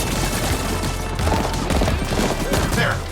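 Continuous video game gunfire, a dense rattle of rapid shots that stays loud and close from start to finish, with a faint voice underneath.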